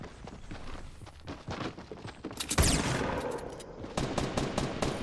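Video game gunfire during a battle, rapid bursts of shots and impacts building into a louder dense volley, sounding nearby, with no talk over it.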